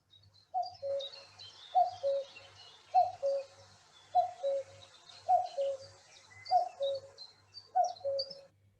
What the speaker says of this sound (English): the common cuckoo, which again it has a very distinctive call